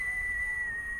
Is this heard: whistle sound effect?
yes